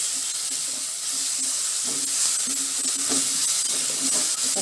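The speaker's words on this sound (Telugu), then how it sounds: "పచ్చివాసన పోయే వరకు వేయించుకోవాలి." Fresh ginger garlic paste fries in a pan with a continuous loud sizzle and hiss, while stirring adds intermittent scraping throughout.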